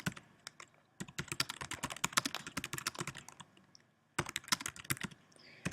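Fast typing on a computer keyboard as a line of HTML text is entered: dense, close key clatter in two bursts separated by a brief pause, with no talking.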